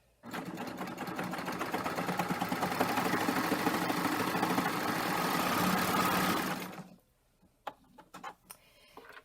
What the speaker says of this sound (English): So I'm gonna sew this one side with the current settings with the thinner thread